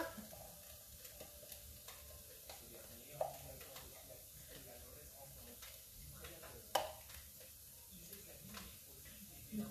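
Onions and aubergine frying in an All-Clad pan, a soft steady sizzle with occasional stirring clinks and scrapes, while someone talks over it.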